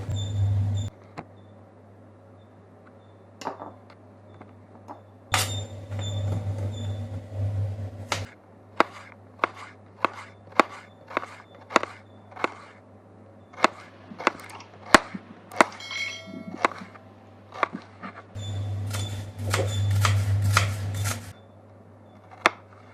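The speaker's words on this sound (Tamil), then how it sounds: "ஸோ வெங்காயம் கட் பண்ணியாச்சு." Onions are chopped by hand on a cutting board in a home kitchen, with a series of sharp, irregular knife knocks and short bursts of rapid cutting, close and clear over a low background hum.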